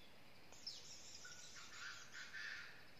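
A Chinese francolin partridge, a red-faced, white-clawed bird from Gia Lai, calls outdoors with a sustained harsh, grating cry lasting a couple of seconds, moderately near above a steady background hiss.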